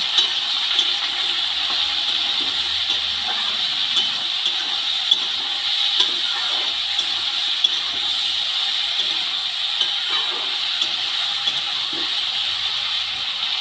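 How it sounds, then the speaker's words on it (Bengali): Potato and ridge gourd pieces sizzling in hot oil with turmeric and salt, a steady close hiss with small crackles and no pauses. "হলুদ লবণ দিয়ে আলু আর ঝিঙে খুব ভালো করে আমি ভেজে নেব।"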